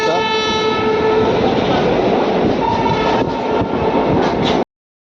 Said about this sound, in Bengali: মালগাড়ি যাচ্ছে